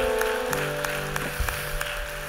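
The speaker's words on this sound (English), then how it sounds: "Sometimes, you know, it's good to clap your hands." Church congregation clapping their hands during worship, a steady, fairly loud patter of many hands with sharper individual claps standing out, over sustained organ or keyboard chords.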